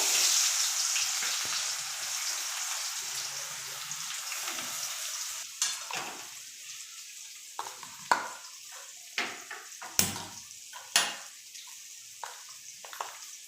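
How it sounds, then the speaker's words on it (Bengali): Green chillies, onions and bay leaves fry in hot oil with a steady, hissing sizzle. Scattered sharp scrapes and clinks from stirring in the pan grow more frequent later on. No one speaks. "কাঁচা লঙ্কা, পেঁয়াজগুলো দিয়ে দিচ্ছি তেলের উপরে।"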